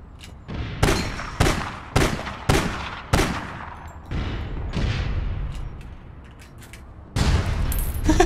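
Gunfire in the video game APB Reloaded comes as a series of sharp, loud shots, several in quick succession and then a denser burst near the end.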